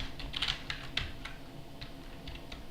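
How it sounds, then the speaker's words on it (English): Keys clatter on a computer keyboard as a command is typed into a Linux terminal on a Fedora machine, a quick, uneven run of close, crisp keystrokes with short gaps. "So on the command line, what I do type is very simple."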